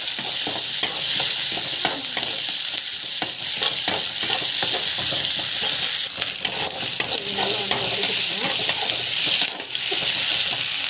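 Ginger sautés in a pan with a dense, continuous sizzle and frequent scraping stirs, loud and close throughout, with no voices.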